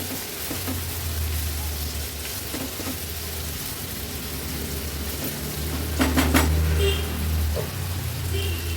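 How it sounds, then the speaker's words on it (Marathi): Two medium chopped onions sautéing in hot oil with ginger, garlic and chilli in a home kitchen, a steady close sizzle with occasional stirring clinks and scrapes of a spoon against the pan. "कांदा पण तेलामध्ये छान परतून घ्यायचा आहे"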